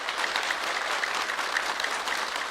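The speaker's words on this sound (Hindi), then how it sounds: "मुकुल के लिए तालियां।" Audience applauding a dancer at an Independence Day event in cold, high-altitude Ladakh, a steady, dense burst of clapping that holds at an even level throughout.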